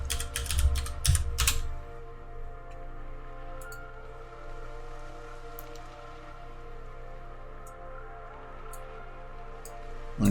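Fast burst of computer keyboard typing at the start as a blueprint name is entered, a few close clicks, then a quiet steady room hum with faint scattered taps.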